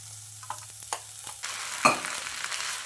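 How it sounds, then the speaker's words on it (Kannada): A hot tempering is poured into cooked millet kichidi and erupts into a sharp sizzle, preceded by a few soft stirring clinks and followed by a steady crackling fry close by. "ಈಗ ಇದನ್ನು ಒಗ್ಗರಣೆ ಮಾಡಿಕೊಂಡಿದ್ದೆ, ಅದಕ್ಕೆ ಹಾಕೋಣ"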